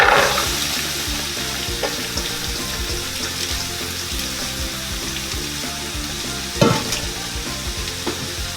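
Carrots, celery and onions frying in oil in a heated pan, giving a steady close sizzle with stirring scrapes and a sharper clatter near the end, no talking.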